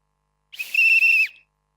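A handheld whistle, presented as a fitting gift for a village kabaddi champion at a press launch event in Mumbai, gives one shrill, sustained blast of under a second, clear and alone.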